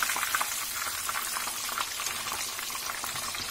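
Chicken fillets fry in hot oil with a dense, continuous crackling sizzle and fine spitting pops that stay fairly even throughout, with no voices over it.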